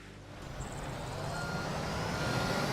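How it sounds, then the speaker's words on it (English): Reversing beeps from a concrete truck backing up at a construction site in Construction Simulator 2, a steady rhythmic high beep running over a continuous diesel engine rumble. "We back the truck up."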